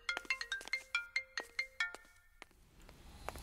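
A phone ringtone plays a quick, bright melodic pattern of repeated plucked-sounding notes for about two seconds, moderately loud and heard alone before the tune stops and faint room noise remains.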